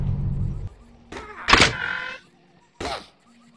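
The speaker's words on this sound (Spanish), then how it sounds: "Se oye un carro." A car in a horror video game, heard as short mechanical whirs and thunks with a loud burst in the middle and another brief one near the end, separated by near silence.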